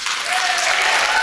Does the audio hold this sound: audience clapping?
yes